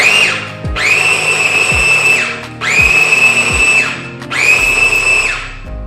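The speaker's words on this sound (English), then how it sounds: "Still gotta grind it a little bit more." A food processor grinds black bean burger mix in three loud, sustained pulses, each whining up to speed and then winding down, close by with no talk.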